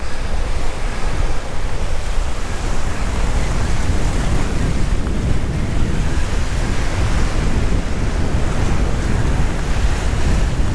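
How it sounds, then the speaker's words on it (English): Strong wind buffets the microphone in a constant roar while ocean waves crash and wash beneath it at a kitesurfing spot on Oahu's North Shore, loud and unbroken. "it's also really windy here, so I'm not sure how the quality of the audio will be here"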